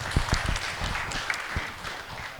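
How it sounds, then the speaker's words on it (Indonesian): An audience at an Indonesian economic dialogue event applauds, the clapping soft and somewhat distant in a large room, lasting only a couple of seconds with no voices over it. "Tepuk tangan."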